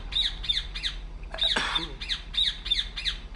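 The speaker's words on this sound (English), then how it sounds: "What the hell's up with that bird?" In the video game Republique, a bird squawks over and over in quick, shrill, evenly spaced calls, loud and close, with a brief voice-like burst in the middle.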